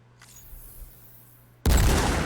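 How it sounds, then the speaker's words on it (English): A single sharp, loud gunshot rings out in Death Stranding 2, bursting suddenly after a quiet stretch and holding as a dense, noisy blast to the end. "Gunshot."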